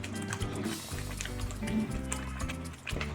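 A pot of tomato pickle bubbling as it cooks down in oil, with wet popping, squishing and dripping sounds, close and continuous, with a voice faint in the background.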